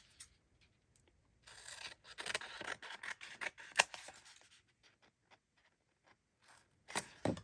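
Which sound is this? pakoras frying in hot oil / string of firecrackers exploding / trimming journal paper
trimming journal paper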